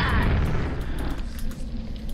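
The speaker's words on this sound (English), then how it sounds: "we're gonna get hit by its missile" Vore missile explosion striking the player in Quake, a dense rumbling boom that fills the whole moment and decays slowly without any talk.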